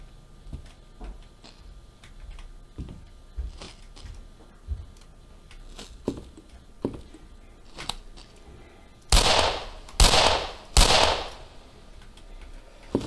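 Three sharp, loud gunshots crack out in close succession near the end of a tense stretch in the horror video game Unspoken, preceded by quiet ambience and faint scattered clicks and knocks.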